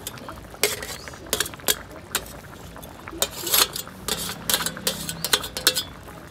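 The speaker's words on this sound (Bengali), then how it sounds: "এখন আমি এই যে ভেজে রাখা বেগুন আর উচ্ছেটা দিয়ে দেবো।" Fried eggplant and bitter gourd go into a pot of simmering sukto, heard as a run of sharp clinks and scrapes of a utensil against the pot, with soft bubbling between them and no voices.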